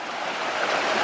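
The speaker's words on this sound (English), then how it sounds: "Nice streams here." Mountain stream on the Pioneer Trail hike toward Spaulding Lake in California, a steady broadband rushing of flowing water, close and continuous with no talk.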